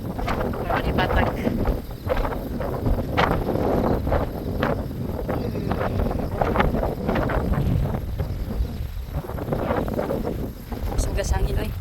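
Strong wind blows outdoors during morning exercise, a loud steady roar buffeting the microphone throughout, with people talking over it.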